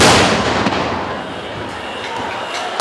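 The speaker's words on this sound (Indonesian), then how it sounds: "Itulah ledakan dari bom timer yang sudah dievakuasi di tempat lain, namun ledakannya dilakukan di tempat yang aman" A timer bomb is set off in a controlled detonation during a 2014 election security drill. One loud, deep blast decays into a long rumbling tail, with faint crowd noise behind it.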